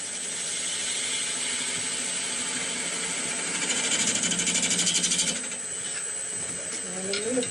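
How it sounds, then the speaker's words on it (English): Wood lathe turning a ball bat as a bowl gouge cuts in, giving a steady broadband hiss and whir with a louder chattering, rhythmic scrape in the middle, close and continuous without talk. "I'm going to try my bowl gouge and see if I can get a nice clean cut coming in."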